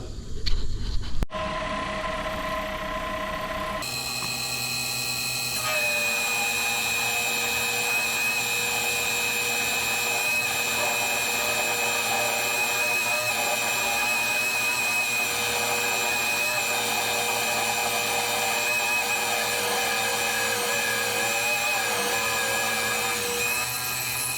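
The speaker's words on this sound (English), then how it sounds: "Take this thing over to the lathe and start drilling a hole." A lathe spins up with a whine, then runs steadily while a drill bit bores in, a loud constant machine hum with shifting high tones.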